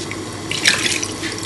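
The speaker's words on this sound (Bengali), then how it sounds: "মুরগিটার যে মশলাটা ছিল পাত্রের গায়ে, সেটা আমি এখন একটু পানি দিয়ে ধুয়ে দিয়ে দিব" Water runs and splashes as leftover chicken marinade is rinsed from a cooking pot for chicken biryani, a steady close tap-like flow swelling briefly midway.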